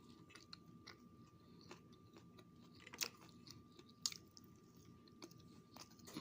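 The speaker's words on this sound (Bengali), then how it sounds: "কাঁচামরিচ কামড় দিব" Quiet, close-up biting into a green chili, then soft chewing, with a couple of sharper crunches standing out against a near-silent room.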